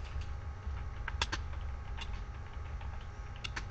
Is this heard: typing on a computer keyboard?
yes